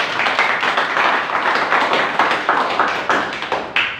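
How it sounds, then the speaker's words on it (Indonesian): A congregation claps during a church service, a run of sharp, fairly rhythmic hand claps, close and loud, continuing steadily for about four seconds without talk. "Tepuk tangan dulu buat Tuhan."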